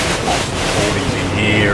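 Heavy rain and gusting wind during Tropical Cyclone Debbie batter a sailboat, a loud, continuous roaring wash with buffeting wind on the microphone and no let-up.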